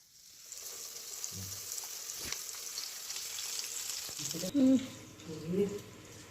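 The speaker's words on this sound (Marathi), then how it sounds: "सुरुवातीला मी मासे हे राजवीसाठी मिठातलेच थोडंसं थोडासा नॉर्मली मसाला लावून भाजते" Fish being pan-fried after being rubbed with salt and a little masala, giving a steady low sizzle throughout, with a brief clatter partway and a few louder stirring or handling knocks near the end.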